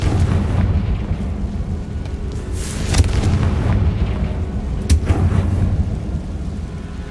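Video game Confringo spell blasts as a series of deep booming explosions, two sharper bursts standing out over a rumbling background, with no talk.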